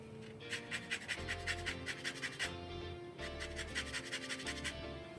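A lemon is zested for a steak dish with rhythmic rasping strokes on a grater, close and fairly quiet, in two bursts separated by a short pause.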